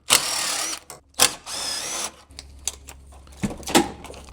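Bolts are removed from the hood latch of a wrecked GMC Sierra Z71 pickup with a power tool, giving two short buzzing whirs followed by clinks and metallic clatter of parts being handled.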